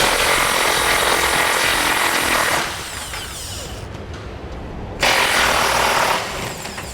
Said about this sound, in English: we're going to need to remove the M14 bolt located right here on the bottom of the frame